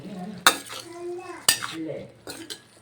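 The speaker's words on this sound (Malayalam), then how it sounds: "ഇനി അടുക്കി പിടിക്കാതെ നമ്മൾ നല്ല പോലെ ഇളക്കി ഈ ശർക്കര ഉരുക്കി ഇതിൻ്റെ കൂടെ ചേരുന്നത് വരെ നമ്മൾ ഇളക്കിക്കൊണ്ടിരിക്കണേ" Metal clinks and scrapes against a pan as jaggery is stirred while it melts for a sweet curry, a few sharp knocks spaced about a second apart with a soft sizzling hiss between them.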